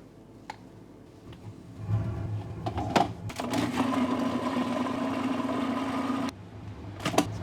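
A hand mixer whips keto peanut-butter cheesecake filling with sour cream in a bowl, a steady motor whir running for a few seconds amid brief knocks and clatter before and after.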